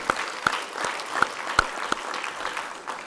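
A small audience at a book talk with author Jerry Mitchell claps lightly, with sparse, distinct hand claps over a soft, steady background for a few seconds.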